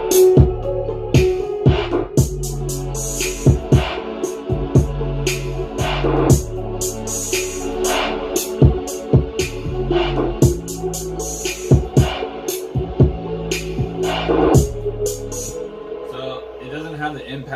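A chill hip hop beat produced in Ableton plays loud and continuous, with steady punchy drum hits over sustained chords and bass, looping through several bars in a relaxed groove with no talking.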